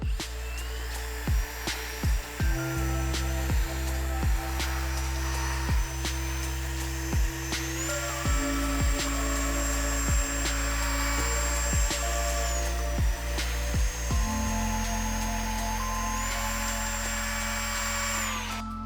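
Power drill spinning a polishing pad to buff an aluminum frame, a steady whirring drone with repeated sharp clicks and brief pitch shifts as the pad presses and releases, close and loud with no talking.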